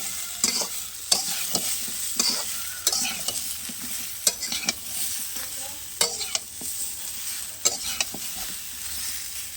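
Raw mango pickle with black salt stirred in a pan, a steady stream of repeated spoon scrapes and knocks over a constant bright sizzle, close and fairly loud.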